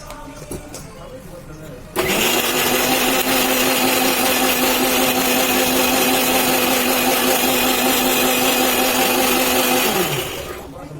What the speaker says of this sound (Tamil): தண்ணி கொதிக்கிற கேப்ல நம்ம சட்னி அரைச்சிக்கலாம்.